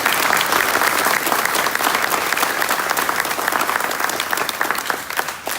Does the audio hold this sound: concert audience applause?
yes